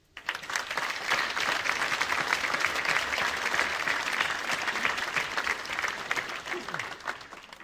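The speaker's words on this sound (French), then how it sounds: "Vous pouvez les applaudir." An audience at a mayor's New Year address applauds police officers and firefighters, a thick, even wash of clapping from many hands that holds steady for several seconds before tapering off.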